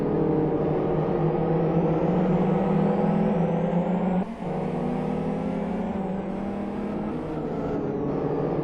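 GT2 race cars battle closely on a circuit, engines droning with rising and falling pitch as they jostle, a brief dip midway as one car backs off before the pack pulls away again.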